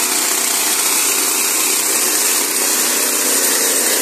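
A T16 brush cutter's small engine runs at high revs while clearing shrubs and undergrowth, a loud, constant whining roar that holds steady throughout with only a brief dip, close by and without speech.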